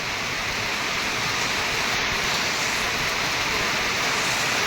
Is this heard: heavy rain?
yes